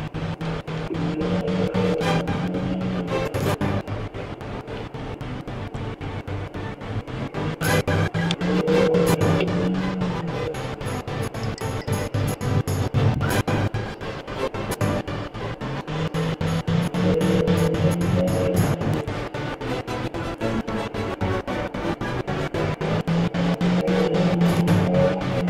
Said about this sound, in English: I think it's a vehicle trying to get up the hill.